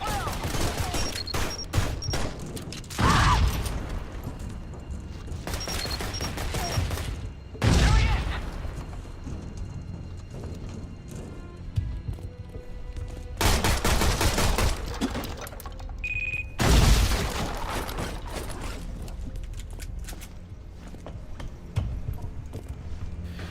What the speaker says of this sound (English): if you drop a grenade down here, it'll kill the soldiers above you